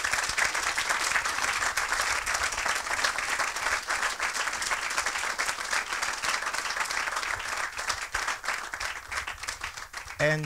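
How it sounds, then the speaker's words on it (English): Applause from an audience at a university ribbon-cutting ceremony, dense sustained clapping filling the room without a break from start to finish. "another round of applause to Dr."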